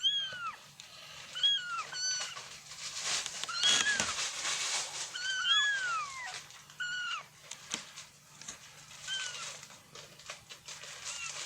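Orphaned baby stray kitten meows repeatedly in high, rising-and-falling cries, close and fairly loud, several in quick bursts with short pauses, over a low steady hum.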